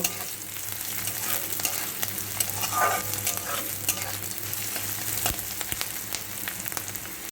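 Sliced onion and garlic fry gently in a pan for a dried loitta fish bharta, a steady close sizzle with occasional sharp clicks and scrapes of a spatula stirring, and no voices.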